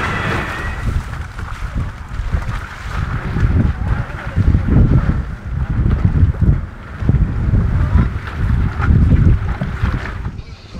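A small Hobie cat and a local ferry pass by at Fanning Island, heard as a low rumbling engine drone that swells and fades under heavy gusting wind buffeting the microphone, with faint talk in the background.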